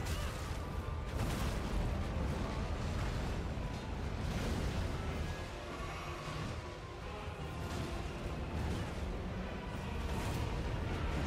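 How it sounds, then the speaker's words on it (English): A black flash attack in a video game sets off a sustained roaring blast, a dense rumbling explosion that stays loud and continuous throughout without any voices. "My black flash caused me to explode."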